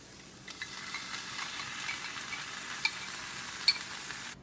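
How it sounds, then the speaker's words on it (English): Angus beef pizza steaks sizzle and fry in a pan at a Northeast Philadelphia steak shop, a steady close hiss with a few faint clinks of utensils on metal. "So we're just letting this sizzle up"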